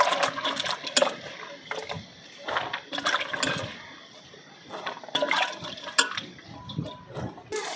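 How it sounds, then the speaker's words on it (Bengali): Freshly harvested potatoes are washed by hand in water, producing repeated splashing and sloshing bursts, close and fairly loud, with short pauses between scoops. "তো এই যে আলুগুলো আমি ধুয়ে নেব"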